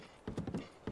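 A horse's hooves clip-clop across the ground in Zelda: Breath of the Wild. Several quick, close hoofbeats come in an uneven gallop rhythm, with no talking over them.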